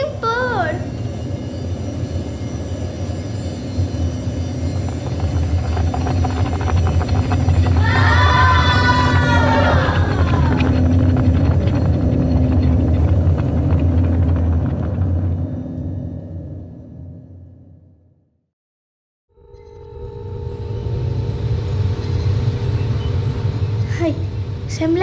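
A rocket lifts off in an audio drama, a loud swelling roar with crowd-like yells and whoops that builds, then cuts to silence before a steady rumble returns.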